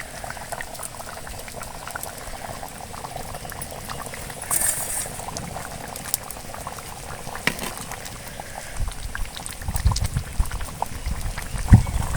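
Cluster bean gravy bubbling in a pot, a steady close boil with soft popping and faint clinks, no talking.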